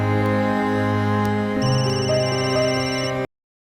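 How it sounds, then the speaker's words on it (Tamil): A telephone plays a loud, continuous ringtone melody with shifting electronic tones, which stops abruptly near the end, with no talking. "எவ்வளோ நேரமாக ஃபோன் அடிச்சுட்டே இருக்கிறேன், எடுக்கவே மாட்டேங்கிற"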